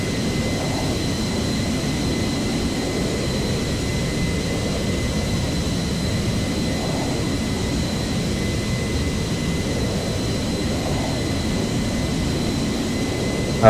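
Aircraft taxiing at Boston Logan airport, heard as a steady, continuous jet engine roar at a distance with faint high whining tones, unchanging throughout and with no voices.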